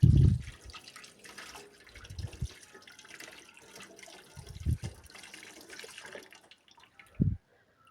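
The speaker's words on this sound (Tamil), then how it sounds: "இப்போ இந்த மூளையை வந்து நீங்கள் நல்லா தண்ணி ஊற்றி அலசி எடுத்துக்கோங்க" Water poured over raw beef brain in a Sri Lankan home kitchen, splashing and trickling in several short bursts with a soft running wash between them, close by and moderately loud.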